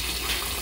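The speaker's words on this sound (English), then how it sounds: "first we'll need some more water in this pan" Water runs steadily from a tap into a cooking pan, a brief, close, continuous hissing gush with no talk.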